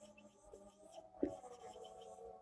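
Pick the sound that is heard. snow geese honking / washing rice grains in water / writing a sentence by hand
writing a sentence by hand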